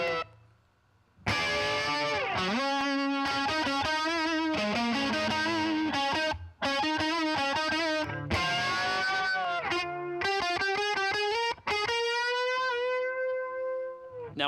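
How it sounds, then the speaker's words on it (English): Electric guitar played through a boost distortion with chorus rings out in loud, sustained chords and melodic lines, shifting every couple of seconds with brief gaps between phrases. "I'm just going to turn on the boost I have"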